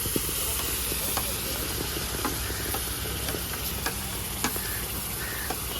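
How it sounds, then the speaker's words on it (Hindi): Whole spices crackle and sizzle in hot oil in a kadai for matar paneer, a steady close hiss with scattered sharp pops throughout and no voice. "मसाले जैसे ही चटकने लगेंगे"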